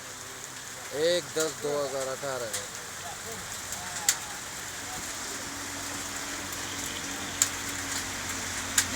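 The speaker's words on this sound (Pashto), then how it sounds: "تکه توره تیاره ده خو ښایسته باران ورېږي" Heavy rain pouring down steadily on a dark morning in upper Dir district, a constant broadband hiss throughout with a few sharp drip or knock transients, while someone talks briefly near the start.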